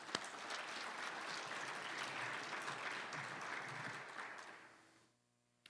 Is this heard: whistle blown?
no